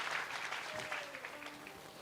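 A church congregation claps and cheers in worship, a steady burst of applause with a few voices rising through it, fairly faint and lasting about two seconds.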